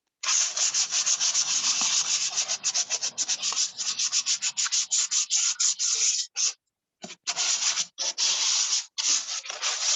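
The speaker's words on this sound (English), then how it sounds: "we want to sand it in order for us to touch it with our hands." Sandpaper rubs back and forth along the edge of a wooden arch piece for a boho wall hanging, in close, steady rasping strokes with a few short pauses near the end.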